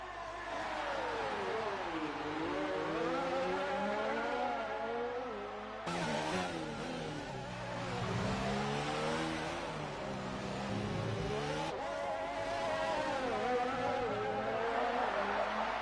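Formula 1 race cars in the F1 2019 video game, driven hard on the Baku street circuit: several high-revving engines whine and sweep up and down through gear changes, loud and continuous throughout, with no talk.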